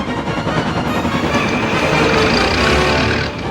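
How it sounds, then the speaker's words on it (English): A runaway train in an animated children's show rushes forward, gaining speed, its dense, steady rumble and rattle loud and continuous throughout. "The truck surged forward, the train rapidly gaining speed."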